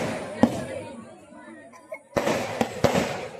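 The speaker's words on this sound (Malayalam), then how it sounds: "ഇനി കുറച്ച് നേരം പടക്കം പൊട്ടുന്നത് കാണാം" Firecrackers burst during a festive Perunnal night at home, with sharp nearby bangs and a lively cluster of pops near the end. A person's voice runs quietly under the explosions.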